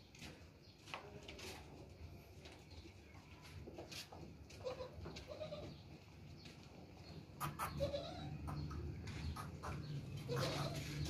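Dairy goats with their own kids bleat repeatedly at a goat sale yard, several short bleats scattered over moderate-distance farmyard background noise, with faint people's voices mixed in.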